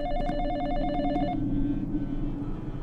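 A telephone rings in the horror game Exanimum: The Silent Call, a bright repeating electronic trill for about a second and a half, then stops, leaving a steady low ambient drone.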